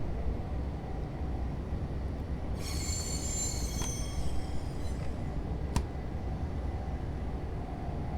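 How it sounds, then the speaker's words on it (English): Train wheels slip in a train simulator game, giving a high metallic squeal that rises over a steady rolling rumble for a couple of seconds, then fades, with a sharp click shortly after. "Oh, a little bit of wheel slip."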